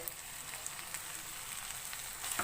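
Shredded cabbage and lengthwise-chopped capsicum sizzle in a hot pan, a steady close frying hiss with faint crackles and a light stir near the end, no voices.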